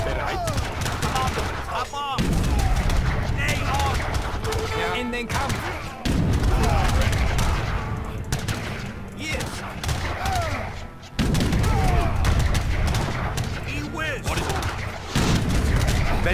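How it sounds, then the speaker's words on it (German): Repeated heavy cannon booms and bursts of gunfire in a dense Age of Empires 3 battle, explosive volleys rolling over a constant loud din with brief gaps. "Schießt doch jetzt, ihr blöden Kanonen."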